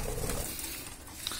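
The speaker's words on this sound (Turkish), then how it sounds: "Burada da zapaz kuşlarımız var." Caged breeding birds cooing softly in a pigeon-like low murmur, close by with steady background noise, brief.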